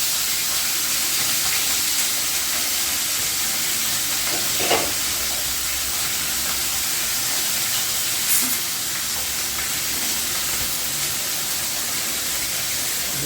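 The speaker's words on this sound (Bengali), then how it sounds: "তেলটা গরম হয়ে গেছে আমি মাছগুলো ছেড়ে দেব আমার একসঙ্গে চারটা মাছ হয়ে যাবে একসঙ্গে দিয়ে দিলাম" Four bata fish sizzling together in hot oil for a thin Bengali fish curry, a steady broadband hiss of frying running throughout with a few faint pops and clatters, close and alone without speech.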